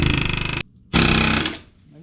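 Air hammer rattling on a wheel bearing bolt of a Jeep Wrangler, two loud bursts of rapid pneumatic hammering separated by a short pause, the second fading out at the end.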